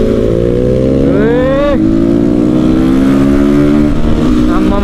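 A Crossfire RM 250 dirt bike revs hard on an off-road track, its engine note rising steeply in a loud climbing whine, dropping, then building again, close and dominant with voices faintly underneath.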